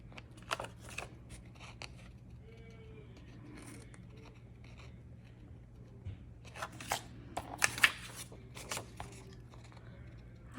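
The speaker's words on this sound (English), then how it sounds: "Then I use my scissors and corner around these corners here" Scissors snipping around the corners of paper pages while making a homemade traveler's notebook, a series of quiet, close, irregular cuts and rustles with gaps between them.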